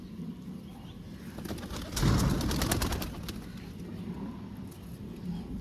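Soft pigeon cooing amid a busy outdoor background, with a brief burst of fluttering or scuffling near the middle.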